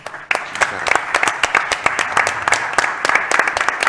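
Applause from a modest audience at the end of a conference talk by Gustavo Lazzari for the Sociedad Atlas in Rosario, with individual claps standing out in a loose, uneven patter close by.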